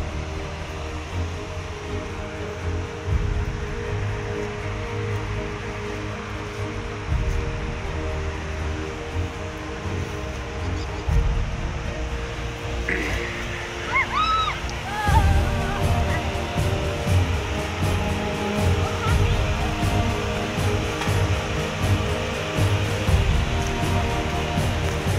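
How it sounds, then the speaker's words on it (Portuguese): The Cascata do Salso waterfall at an old dam gives off a continuous broadband rush of falling water, even and unbroken, with no voices. "Chegamos na Cascata do Salso."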